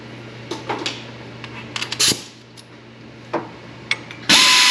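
Engine bolts are worked loose with a hand tool on a Chevy Colorado, GMC Canyon or Hummer pickup, bringing scattered close metallic clicks, clanks and scrapes, then a sudden loud sustained burst at the end.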